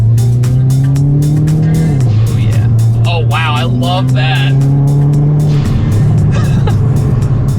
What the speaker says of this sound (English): got the exhaust, got the turbo noise, checks all the boxes